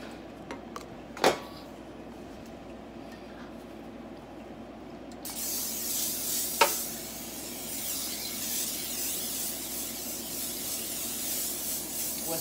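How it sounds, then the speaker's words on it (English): Pam cooking spray hisses onto a baking pan for a coffee cake, starting with a few knocks and clicks of the can, then a sustained bright spray lasting several seconds up close. "let me spray this pan"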